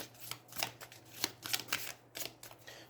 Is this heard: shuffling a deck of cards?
yes